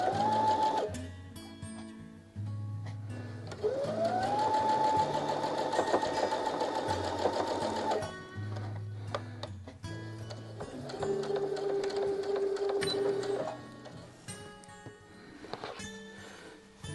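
Sewing machine chain piecing rows of quilt blocks: several runs of fast, steady mechanical stitching separated by short pauses, close and clear, with no talking.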